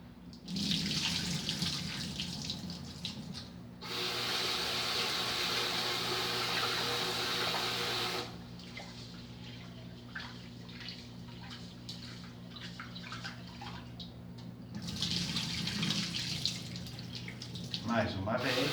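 A kitchen tap runs steadily while rice is rinsed in room-temperature water, the flow starting and stopping in long stretches with sloshing and stirring of grains in between, close and moderately loud.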